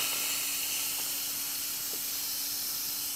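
Steady high hiss of steam venting from an Instant Pot pressure release valve, continuous and fairly even for a few seconds, with no voices.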